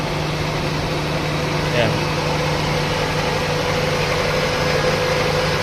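A Toyota Corolla EE100 engine idles steadily after its carburetor was rebuilt with a repair kit, a continuous even hum and rattle heard up close while someone speaks briefly over it.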